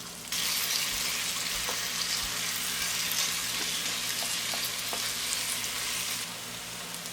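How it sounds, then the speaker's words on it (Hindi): Chicken mince sizzles and fries steadily in a pan, a continuous close hiss with a few faint stirring clicks and no talking. "तो भी साथ ही फ्राई करेंगे। कीमा शामिल करेंगे।"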